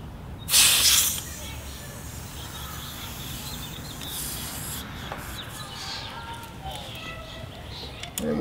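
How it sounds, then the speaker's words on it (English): Air rushes in a loud, brief hissing burst as a pump reinflates the rear tire of a BMW R1200GS motorcycle, followed by a quieter stretch of low background noise. "Now we'll put the valve core in and reinflate the tire to the proper pressure."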